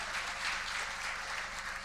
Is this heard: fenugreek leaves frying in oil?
no